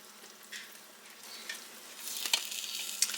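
Shredded mild white cheddar is stirred into grits while an omelet fries nearby, a soft steady sizzle with scraping spoon strokes that grow busier and louder toward the end.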